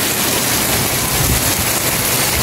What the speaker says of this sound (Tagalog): Ulan po ngayon. Thank you Lord at umuulan na.